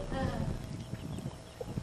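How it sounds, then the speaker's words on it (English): Small miniature horses clop their hooves in a quick, uneven patter of soft thuds, fairly close, over a steady noisy background with a brief vocal sound partway through. "Watch these interactions between these little tiny miniature horses"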